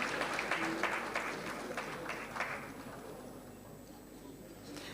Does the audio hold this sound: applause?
yes